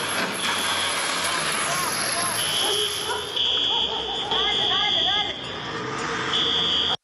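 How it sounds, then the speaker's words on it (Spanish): Several vehicles speed out of a supermarket car park in Kennedy, north Quito, as alarms sound: a loud, steady electronic tone with repeated beeps, over engine noise and general commotion. "Suenan las alarmas y 3 vehículos salen rápidamente del parqueadero de un supermercado"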